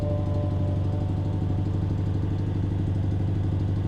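A BMW X6 engine idles steadily, a deep continuous exhaust rumble with a low throb, close and constant throughout.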